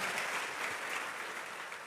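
A church congregation applauds at a revival service, sustained dense clapping from a crowd throughout, fairly loud and even, with no voices over it.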